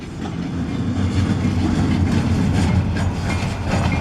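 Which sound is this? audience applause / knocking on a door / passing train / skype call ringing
passing train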